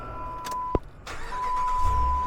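A car engine cranking and catching after a belt replacement, with a short click, a brief whir and then the engine settling into a steady idle, close and moderately loud.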